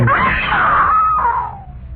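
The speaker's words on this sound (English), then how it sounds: "I screamed." A woman lets out one long, loud scream in a horror radio drama, rising sharply and then trailing off into a fading wail.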